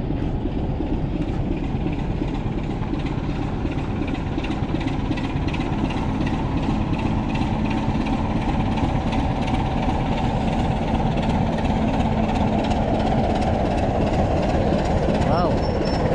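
A steam train at Aviemore station rumbles steadily as it sets off, a continuous heavy low engine drone with faint clanking, and voices murmur underneath.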